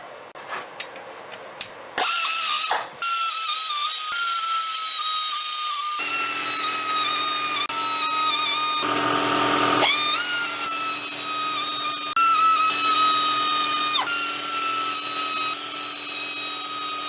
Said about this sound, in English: I'm going to go ahead and use my 1/4 inch drive air ratchet.